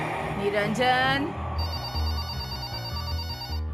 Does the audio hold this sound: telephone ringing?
yes